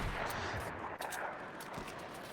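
Fortnite gunfire in a scholastic esports match, a few sharp pot shots popping over a dense, noisy game soundscape.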